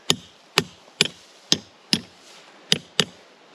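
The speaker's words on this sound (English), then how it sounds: "hammer and I'll hit that down." Sharp hammer blows drive down a trap drag outdoors, seven distinct knocks spaced about half a second apart, close and crisp with no talking.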